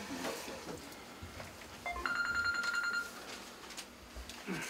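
A mobile phone rings briefly inside an entertainment bar during a police inspection, a single faint electronic tone lasting about a second amid quiet room noise.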